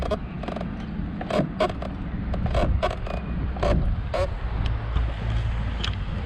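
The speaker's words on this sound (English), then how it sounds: "the plastics here squeak" Irregular plastic creaks and squeaks from the body panels of a 2021 SYM Cruisym Alpha 300 scooter, several sharp ticks spread across a few seconds over a constant low rumble.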